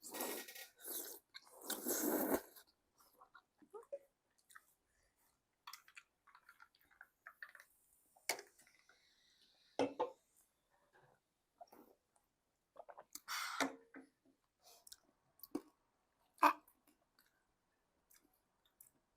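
Chewing and biting on spicy mala tteokbokki from a Dongdaemun Yeopgi Tteokbokki order, with close, intermittent crunchy and wet mouth sounds in short bursts, alongside occasional clicks and quiet pauses.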